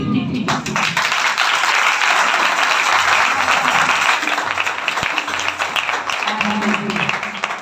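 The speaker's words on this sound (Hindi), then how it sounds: "और तालियां छोटी छोटी।" A congregation claps at a Friday healing prayer meeting, loud and dense clapping with a low hum and voices running underneath.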